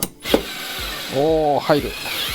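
A Bosch GO3 electric screwdriver loosens a screw, with a close, loud ratcheting whir that rises in pitch, and a short spoken remark over it.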